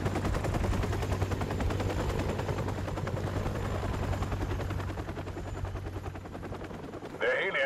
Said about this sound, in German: Der Heli entfernt sich.